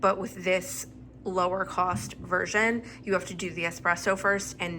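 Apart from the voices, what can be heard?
No everyday noise stands out behind the speech.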